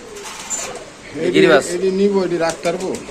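Pakistani Giribaz pigeons coo at a busy pigeon market, their throaty rolling calls close and clear amid people talking and bargaining nearby.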